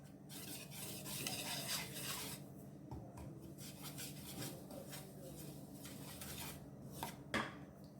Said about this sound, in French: On rajoute un œuf et entre les 2 œufs, on mélange.